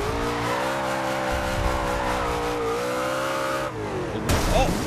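A car drifts in the Forza Horizon 2 racing game, a loud continuous engine roar with shifting revs and tire squeal. A sharp burst of noise follows near the end.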